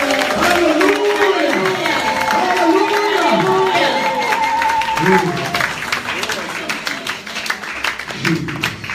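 Worshippers in a church congregation clap and cheer together in sustained applause while a voice sings or calls out over the crowd.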